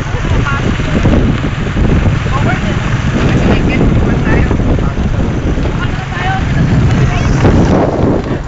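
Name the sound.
boat motor running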